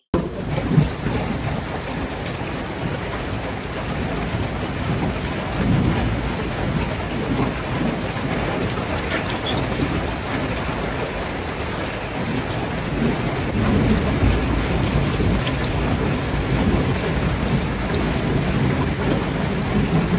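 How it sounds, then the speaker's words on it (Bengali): Rain and thunder outside a window, with steady heavy rainfall and low rumbling thunder rolling underneath throughout, fairly loud and with no speech. "আমি এই যে জানালার কাছে বসে বসে বৃষ্টি দেখছি"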